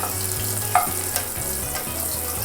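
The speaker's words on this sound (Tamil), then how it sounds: "அதுக்குன்னு ரொம்ப ஃப்ரை பண்ணிடாதீங்க. லைட்டாக வந்து முட்டை வந்து ஒரு ப்ரௌன் டெக்ஸ்டரில் மாறும்." Eggs fry in hot oil until browning for Burmese egg curry (Baydar Hin), a steady, dense sizzle up close with a couple of faint utensil clicks and no voices.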